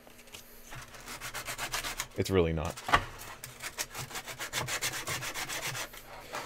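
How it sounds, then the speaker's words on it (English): Hand sanding on a build project: a rapid, rhythmic rasping of abrasive rubbed back and forth across a surface, close and fairly loud, with a brief spoken remark near the start. "we're just sanding anyway"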